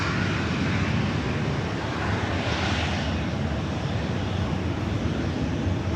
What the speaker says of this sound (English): Southwest Airlines flight 3169 heading to Reno,